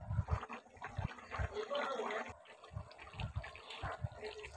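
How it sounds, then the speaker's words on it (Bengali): Fish poured into a pan of cooking vegetables and stirred, giving quiet wet splashes, slushy liquid movement and soft thumps of stirring, close by and fairly faint. "এখন মাছগুলো ঢেলে দিব, একটু নাড়াচাড়া করে ঢেকে দিব।"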